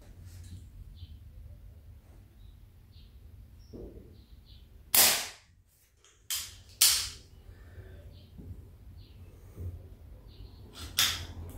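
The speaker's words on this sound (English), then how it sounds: "I'll fire a few shots just to get rid of some of the inconsistency." An Artemis CP1 / Diana Airbug air pistol is fired in a series of sharp, close cracks, each a short burst spaced a second or more apart, against a faint low background hum.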